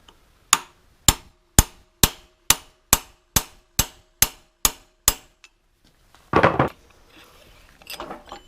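Eleven evenly spaced, ringing hammer blows strike a chisel against a seized nut on a Farmall Super M tractor crankshaft, loud and close, followed by scraping metal handling and rustling.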